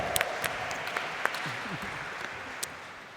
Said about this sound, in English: If you're gonna clap, clap